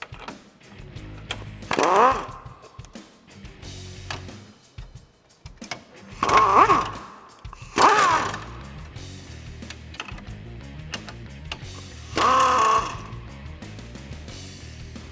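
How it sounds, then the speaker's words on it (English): A tool removing four 10mm bolts that hold the grille on a 2014-2016 Chevrolet Silverado gives four short loud whirring bursts, spaced seconds apart, with quieter clicks and handling noise between them. "Next, we can remove these 4 10mm bolts holding our grill on."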